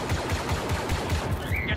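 Blaster fire in the Star Wars Battlefront 2 video game during a Galactic Assault battle: a dense, continuous volley of rapid shots, loud and close, with no speech.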